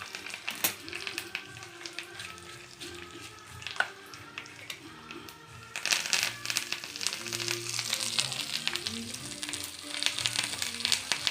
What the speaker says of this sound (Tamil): இது வந்து புதுசாக சின்ன குட்டி அகல் மாதிரி இதில் தாளித்து நம்ம மோர் சட்டியில் அப்படியே போட்டுருணும்.